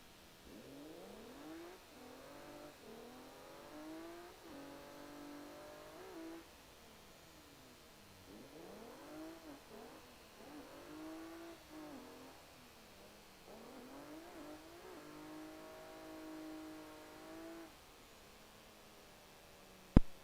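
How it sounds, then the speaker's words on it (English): A classic car engine in the Assetto Corsa driving game revs repeatedly while drifting, rising in pitch through the gears and dropping off between runs, heard fairly quietly with steady background hiss. "That is a really cool sounding car."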